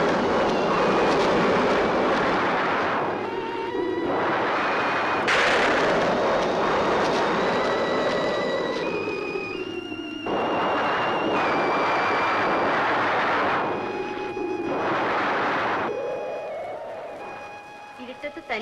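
Heavy thunder rumbles before rain as a storm approaches at night, a long, loud, rolling low roar that swells in repeated waves with faint tonal sounds above it.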